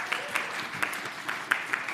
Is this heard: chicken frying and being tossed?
no